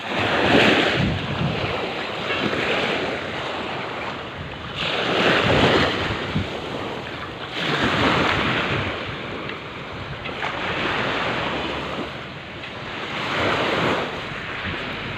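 Sea waves wash around an anchored boat in slow, rolling surges every few seconds, with heavy wind buffeting the microphone throughout and no voices.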